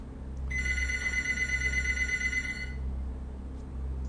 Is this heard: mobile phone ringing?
yes